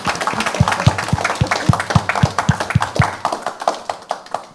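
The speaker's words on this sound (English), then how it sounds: "I think the panel deserves a round of applause" Audience at a conference panel session on sustainable growth claps in a steady run of distinct, fairly close hand claps, sparse enough that single claps stand out, with no voices over them.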